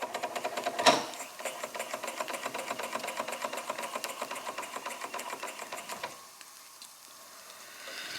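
A Jensen Model 75 toy steam engine runs at high RPM, giving a steady, fast mechanical clatter with dense ticking throughout, a sharp knock near the start, then quieting briefly before picking up again.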